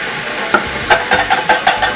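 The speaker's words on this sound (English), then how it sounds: "first of all I gently fry my onion in a small oil" Onion frying gently in a little oil in a pan, with a steady soft sizzle and several brief louder bursts of stirring or scraping, close and continuous, with no talking.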